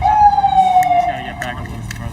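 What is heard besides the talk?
ambulance siren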